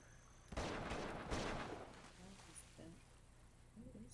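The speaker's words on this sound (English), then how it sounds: "Oh, machine guns!" Bursts of machine gun fire from the video game Uncharted 2: Among Thieves rattle loudly for about two seconds, then trail off into quieter game noise with a voice talking over it.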